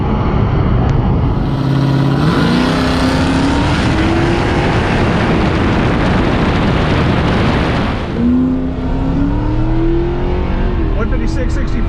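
Drag race launch between a Tesla and a tuned gasoline car, with loud continuous engine roar and rising revs through gear changes for about eight seconds, then a second surge of acceleration, all up close.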